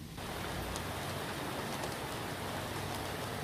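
Steady rain falls in a dense, even hiss that fills the scene from start to finish, soft and constant with no distinct drops or voices, around an outdoor spot where tigers are kept.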